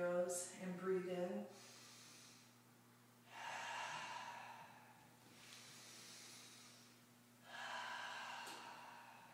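A person takes slow, deep breaths through the nose with fingers steepled and thumbs at the bridge of the nose during an energy exercise. Three long, soft airy inhalations are spaced a few seconds apart, close, after a brief vocal sound at the start.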